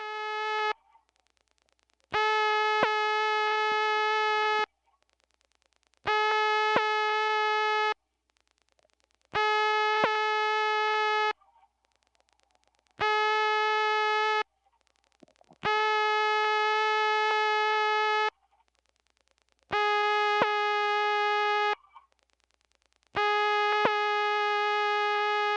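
A step-by-step telephone exchange tone signalling correct dial speed, a buzzy harmonic-rich tone pulsing on and off in regular bursts of about two seconds, clear and alone.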